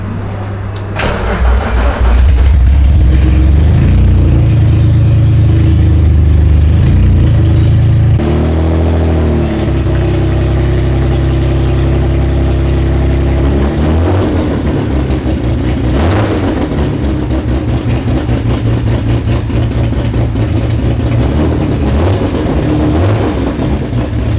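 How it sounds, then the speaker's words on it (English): A freshly installed engine in a BMW M5 wagon build runs loudly and close by. It settles from an initial rev into a steady idle with a deep rumble and a few small rises in revs. "the motor is in, and this is how the motor sounds"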